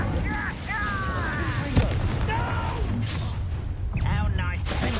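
Incendio fire spell blasts in Hogwarts Legacy, dense booming bursts and crackling impacts layered over loud game combat noise, with voices shouting over the fray.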